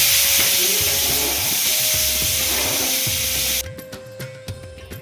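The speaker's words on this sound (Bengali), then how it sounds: "এরপর পেঁয়াজগুলোকে না এখানে একটু ভেজে নেব।" Onions fry in a pan with a loud, steady sizzling hiss that cuts off abruptly after about three and a half seconds, leaving faint kitchen sounds and a few soft knocks.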